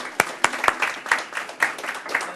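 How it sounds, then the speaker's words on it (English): Scattered applause at a summer youth luncheon, a handful of separate claps spread unevenly through a short stretch, thin and fairly close, with a faint murmur of voices underneath. "Stephanie, can we give her a round of applause?"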